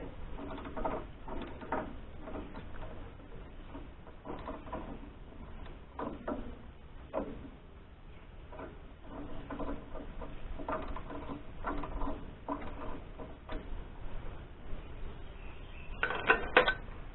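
Close mechanical clicks and ratcheting, with scattered knocks and creaks, come from work loosening a strap on a 32-year-old Wood-Mizer LT40 HD sawmill, fairly faint throughout.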